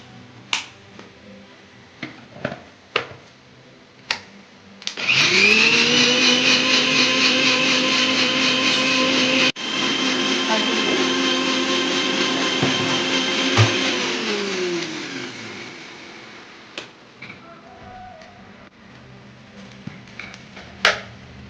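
An electric kitchen mixer grinds three green kanthari chillies into a paste for spinach pachadi, a loud steady whine lasting about ten seconds that winds down, with clicks and taps before and after.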